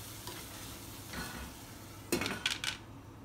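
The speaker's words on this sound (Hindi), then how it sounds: "मैं इसमें डाल दूंगी हमारा सारा पाउडर मसाला, मिक्स करूंगी और बिल्कुल स्लो फ्लेम पे थोड़ी देर छोड़ दूंगी" Potatoes, tomatoes and powdered spices being stirred in a pan over a low flame: a faint, soft sizzle runs throughout, and a few louder scraping strokes of the spoon come near the end. No one speaks.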